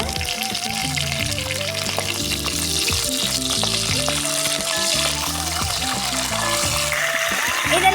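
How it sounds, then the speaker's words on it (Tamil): Small onions and curry leaves sautéing in oil for a Kongu-style stuffed brinjal kulambu, giving a steady sizzle with occasional stirring across the whole stretch, under a louder layer of background music. "சேர்த்து நல்லா வணக்கிக்கோங்க வெங்காயம் வந்துட்டு நல்லா பொன்னிறமாக வர வரைக்கும் நல்லா வணக்கிக்கோங்க"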